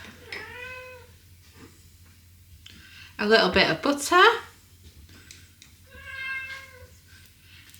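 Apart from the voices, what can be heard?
cat meowing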